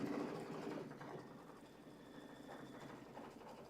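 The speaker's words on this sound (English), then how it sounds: "here we go with that background quilting" A sewing machine runs steadily through background quilting at a spa-themed quilting event, its hum and rapid stitching holding an even, moderate level throughout.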